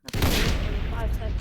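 Gunfire in a video game bursts out suddenly and loud, a dense booming volley of shots running the full length of the short moment.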